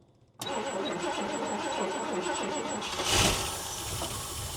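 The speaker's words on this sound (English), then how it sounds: "It's idling." An old 4x4 Ford farm truck engine, abandoned for 32 years, fires up and settles into a steady, close, continuous idle, with a slight swell of revs partway through and no talk over it.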